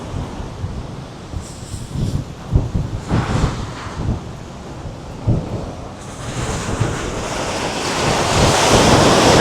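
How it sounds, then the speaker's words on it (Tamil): Large, rough sea waves crash on the shore at Keerimalai, with heavy thudding surges and a constant wind roar over the microphone that grows into a loud, sustained wash of surf toward the end. "அப்படியே பெருசாக வந்து கொட்டுது தண்ணி."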